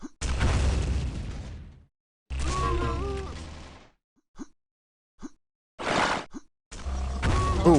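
Rocket blasts in a free-for-all video game duel, several loud close bursts with sudden starts and sharp cutoffs, separated by near silence and brief pops.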